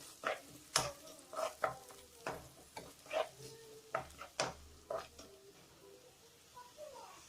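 Masala and onions cooking in a pan for tomato saaru, heard as a soft sizzle broken by repeated scraping stir strokes and light clinks of a utensil against the pan, fairly quiet with no talk.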